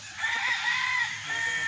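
Fighting cocks on a farm, with a sustained chicken vocalization and crowing-like calls running steadily throughout, fairly loud and close.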